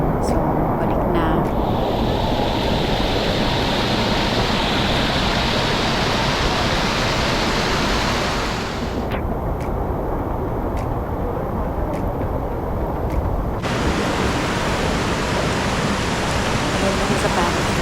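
The rushing water of Buruwisan Falls roars as a loud, dense, continuous wash of noise, steady throughout with brief shifts in tone.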